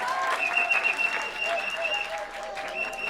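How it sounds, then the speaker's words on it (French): A crowd claps for the mayor of Lonaco at the March 2024 launch of International Women's Day activities in N'lonak, a steady, dense applause filling the space with faint voices mixed in. "Je vous demande d'applaudir pour Madame le maire de Lonaco"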